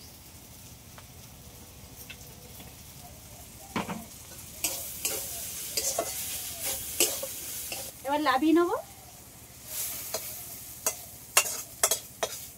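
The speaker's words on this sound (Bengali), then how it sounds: "শাক ভাজা প্রায় হয়ে গেছে, এবার নামানোর সময় একটু কাঁচা তেল দিয়ে দেবো।" Kalmi greens (water spinach) fry in a pan with a soft, steady sizzle, broken by repeated scraping and clinking strokes of stirring; a voice speaks briefly partway through.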